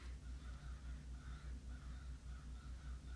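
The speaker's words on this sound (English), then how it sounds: "The crows, okay?" Crows caw in a steady repeated series, about a dozen harsh calls in even rhythm, faint and at a distance with no voices over them.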